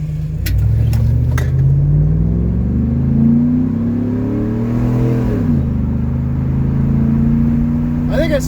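A 2004 Buick Rainier SUV engine revving under brake torque, rising and falling in pitch with a loud, steady mid-range drone, close up, with someone talking over it.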